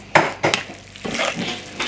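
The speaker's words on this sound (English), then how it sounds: "I'm just going to stir that round, making sure the lamb is all coated in the paste." Lamb being stirred through a marinade paste in a slow cooker pot, with a few sharp utensil knocks against the pot and then wet, squelching stirring, loud and close with no voices.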